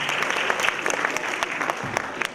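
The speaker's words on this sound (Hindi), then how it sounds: "इसके लिए जोरदार तालियां" An audience at an Islamic quiz contest claps in a dense, lively round of applause, with individual sharp claps standing out near the microphone.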